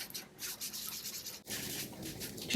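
A blending tool rubs distress ink onto a papercraft gingerbread house, giving soft, close scratchy strokes in a steady back-and-forth rhythm with one brief pause.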